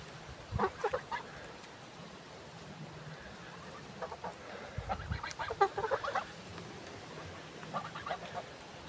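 Geese honk in short bursts at close range on a homestead in Hungary, with calls clustered at the start, middle and end, separated by quieter stretches.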